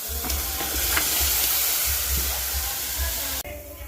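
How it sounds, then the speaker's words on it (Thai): Field rat stir-fried with red curry paste in a little oil hisses with loud, steady sizzling and scraping stir strokes, close up, cutting off abruptly near the end. "เดี๋ยวเราจะเริ่มผัดโดยใส่น้ำมันเล็กน้อยแล้วก็ใส่พริกแกงลงไปครับ"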